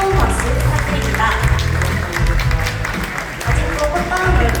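Wedding guests clap warmly for the bride's and groom's parents at a Korean wedding ceremony, dense applause mixed with loud background music or sound that pulses beneath it.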